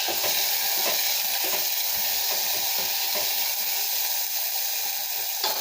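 Small tomatoes sautéing with horse gram dal in a pan, a steady loud sizzle and hiss with stirring scrapes and clicks throughout, no talking.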